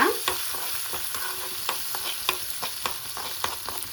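Crab soup ingredients and rock salt stirred in a pan, with a steady sizzling bed broken by repeated scraping and clinking strokes of the spoon at an irregular rhythm, close and moderately loud, no talking.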